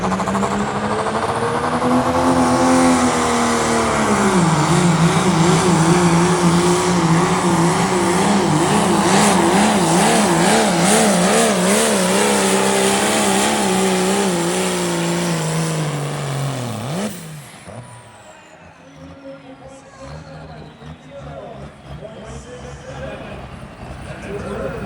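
At the Cass County truck and tractor pulls, Spencer Erb's Charger pulling truck spools up to a loud, howling engine roar that climbs, wavers in pitch and holds for about fifteen seconds before cutting off abruptly, followed by quieter crowd ambience and an announcer's voice.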